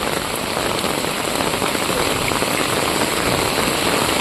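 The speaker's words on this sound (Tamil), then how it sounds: "மழை பெய்யுது" Heavy rain pours down in Vagaikulam, Tirunelveli district, during a flooding downpour, making a dense, steady, close hiss of drops on surfaces with no letup.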